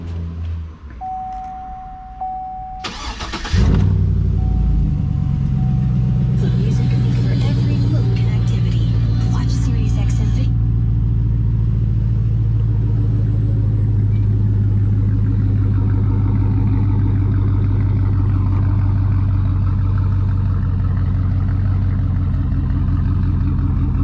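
A truck with a stock LS2 V8 and 104,000 miles cranks over, catches with a loud burst, then settles into a steady, rumbling idle that runs close and continuous to the end.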